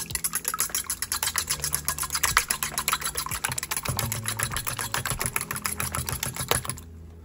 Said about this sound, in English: I'm going to go ahead and whisk these together.